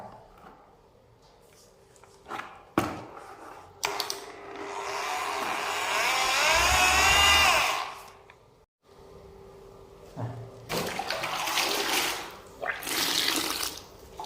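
Water is poured into tile adhesive cement mix in a bucket, a close splashing gush swelling for several seconds between clunks and handling noises, then a second rush of water near the end.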